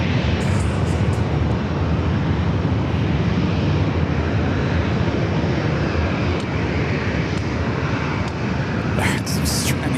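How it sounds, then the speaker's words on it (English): An Alaska Airlines Boeing 737 MAX 9 landing at San Diego airport makes a loud, steady jet roar that fills the whole stretch, with wind buffeting the microphone and brief voices near the end. "That was Alaska Airlines coming in from Seattle, flight 1096, 737 to MAX 9"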